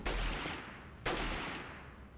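Two heavy gunshots boom from a first-person military shooter, Delta Force: Task Force Dagger, each a sharp blast followed by a long rolling decay, about a second apart.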